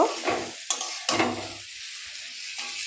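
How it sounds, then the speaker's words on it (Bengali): Spices and pre-fried vegetables for Bengali shukto being tossed in a pan: a few quick scraping stirs with a gentle sizzle, loud at first and then fading to a quiet hiss, close by. "এবার মশলা আর সবজিগুলো একটু নেড়ে চেড়ে নেব।"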